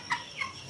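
An Indio Gigante chicken being leg-banded gives two short, close clucking calls, faint but distinct, with no talk over them.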